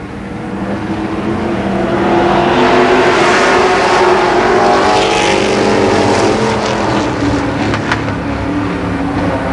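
Race cars roar around the oval at Columbus Motor Speedway, a loud, sustained engine drone that swells as cars pass close, with continuous rasping exhaust and no clear talking.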